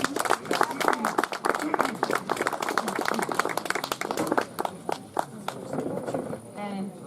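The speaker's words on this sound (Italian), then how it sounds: "Un applauso." Audience applause for a poet reciting verse at an Italian poetry gathering, a dense burst of clapping that swells and then thins out over several seconds, with a voice briefly heard near the end.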